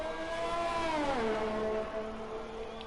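A McLaren Formula 1 car engine in an F1 racing game screams at high revs down the straight toward Parabolica at Monza, a loud continuous whine that dips briefly with a gear change and then holds steady.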